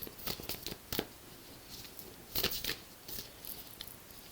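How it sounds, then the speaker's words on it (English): Tarot cards shuffle over a table in quiet, intermittent crisp bursts of riffling and slapping, close and soft, with no talking. "I could just sit here and shuffle them all day"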